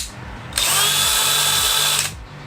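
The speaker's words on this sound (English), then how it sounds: "This is hammer drill mode now." An SDS hammer drill in hammer drill mode starts abruptly and runs with a loud, continuous, buzzing whine for about a second and a half before cutting off.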